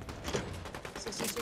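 Rapid bursts of gunfire from Fortnite gameplay, including a DMR and a Thunderburst SMG, crackling steadily with thuds mixed in and a voice talking over it.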